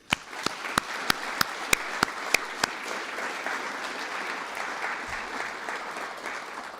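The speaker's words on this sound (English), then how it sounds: "Please give a round of applause for you amazing adults." Audience applause at a 2025 golf club foundation scholarship awards presentation, opening with a run of sharp, evenly spaced claps up close, then settling into steady, moderately loud clapping from the crowd.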